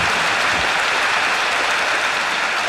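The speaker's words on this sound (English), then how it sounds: "it seems like they were clapping" Dense, loud applause from a concert audience on a live recording, a continuous wash of many hands clapping at once, steady throughout with no voices above it.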